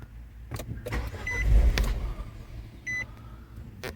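A Nissan Juke engine, fitted with a newly replaced high-pressure fuel pump, cranks and briefly fires with a low rumbling surge, while chimes from the car and scattered clicks sound nearby.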